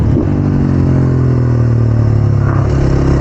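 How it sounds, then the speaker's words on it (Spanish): KTM SMR supermoto engine running close by at a karting track, a loud, rough, uneven idle with a stumbling low rumble, as if misfiring, steady for a few seconds. "La moto falla, tío."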